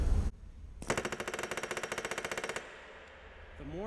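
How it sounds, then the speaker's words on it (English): A pneumatic rivet gun installing aircraft rivets hammers in a fast, steady burst of sharp knocks lasting about two seconds, then stops, leaving a brief air hiss. "The more I pull, the harder the rivet gun knocks"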